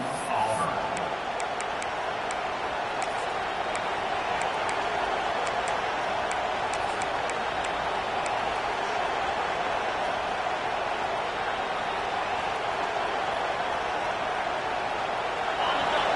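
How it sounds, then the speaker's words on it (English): A constant roar of a large stadium crowd at a football game fills the space, a dense wash of distant voices with faint cheering, steady and unbroken. "Listen to the crowd energy here in the early going."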